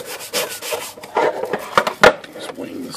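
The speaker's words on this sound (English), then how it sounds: "And now we're going to scrub it with a little stiffer big brush." A stiff brush scrubs wet parts of a Royal KMM typewriter up close, making quick, bristly rubbing strokes in uneven bursts, loud and with no talk.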